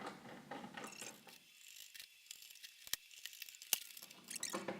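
Faint, sparse ratcheting clicks and small metallic taps as screws are tightened on the power supply case of a Creality CR-10 3D printer, quiet and close, with brief rustling and no talk.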